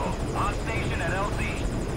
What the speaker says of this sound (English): we just wait here for the helicopter.